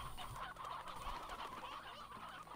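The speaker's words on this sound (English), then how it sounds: "I think 61 chickens should be enough." A flock of chickens in the video game Slime Rancher clucks and gobbles continuously, a busy, moderately loud chorus of overlapping bird calls with no speech.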